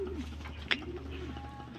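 A racing pigeon coos softly nearby, a low rolling call with a brief sharp chirp partway through.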